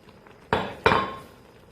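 Two sharp metallic clanks land a moment apart as vegetables go into a pan of bulgogi and bean sprouts, each followed by a brief ringing decay, close and fairly loud, no voices.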